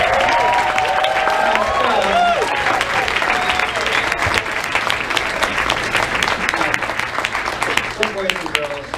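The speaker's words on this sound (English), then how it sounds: "keep giving them applause" Steady applause and cheering from an audience after a children's spring musical performance, continuous crowd clapping throughout with voices and children's calls rising above it.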